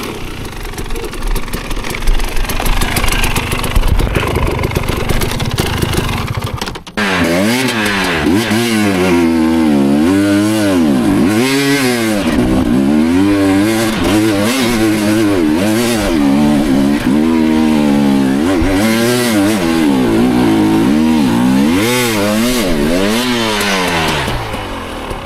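An enduro motorcycle engine revs hard on an off-road trail in Romania, a steady high-pitched buzzing roar with rising and falling throttle sweeps, loud and close throughout with no talking.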